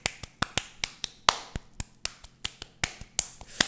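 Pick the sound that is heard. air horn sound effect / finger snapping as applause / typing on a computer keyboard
finger snapping as applause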